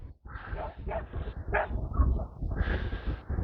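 A farm dog near sheep gives short, soft barks mixed with whimpers and yips, close and fairly quiet, in a brief burst.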